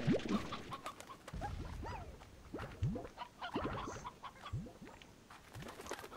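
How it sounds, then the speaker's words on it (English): Chickens in the video game Slime Rancher cluck and squawk in quick, scattered bursts at moderate volume, with several birds calling over one another throughout. "We just got chickens for days."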